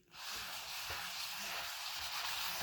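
A hand rubbing across a coated Remo drum head with a rough surface, making a steady, close, scratchy sanding-like hiss that starts abruptly and continues evenly with faint periodic strokes.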